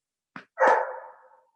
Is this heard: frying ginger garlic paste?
no